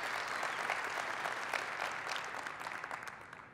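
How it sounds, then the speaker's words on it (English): An audience at a ServiceNow Knowledge 18 keynote bursts into dense, steady applause that fills the room, slowly tapering off toward the end. "Everybody give Donna a round of applause."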